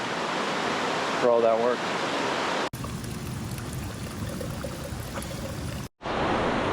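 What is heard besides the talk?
waterfall and river near Goldmyer Hot Springs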